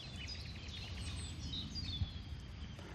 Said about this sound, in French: Alors, fauvette à tête noire.